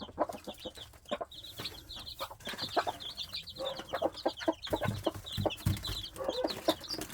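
Chickens and chicks cluck and peck busily at close range, eating bananas and fruit peels, with soft chirping calls and scattered tapping noises throughout.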